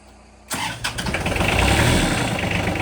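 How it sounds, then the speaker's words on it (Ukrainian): A diesel tractor engine cranks and fires into a loud, steady running clatter at about minus 12 degrees, rising abruptly after half a second of quiet and settling into a rough, close idle. "дизельний трактор будемо запускать"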